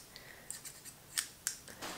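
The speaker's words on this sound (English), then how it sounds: "have my little travel scissors" Small travel scissors are handled close up, giving a few faint, crisp metallic clicks and snips at irregular intervals. A louder snap comes at the end, with no voices.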